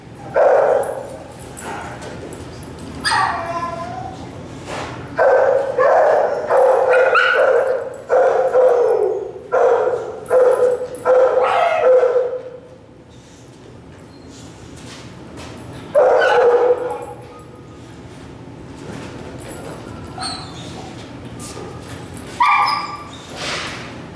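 A reactive dog undergoing e-collar training barks in loud, repeated bursts, several rapid volleys over roughly twelve seconds, then a pause and further scattered barks and yips, close to the microphone with no talk.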